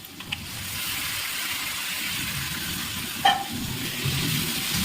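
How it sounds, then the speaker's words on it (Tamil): Raw chicken sizzling in a home kitchen pan after onions have been sautéed, a steady, loud, broad hiss lasting throughout with one brief clink partway through, and no voices. "இப்போ நம்ம இதில் சிக்கனை போடுறோம்"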